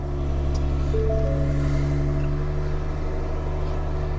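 Truck engine running at a steady idle, a loud continuous low hum with strong even tones and faint mechanical whine, close and alone without talk.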